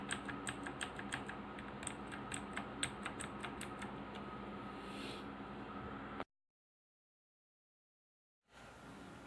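Clicky typing on a Tecware Phantom mechanical keyboard with Outemu Blue switches, a run of crisp keystrokes for about six seconds before the sound drops to silence, then faint background hiss.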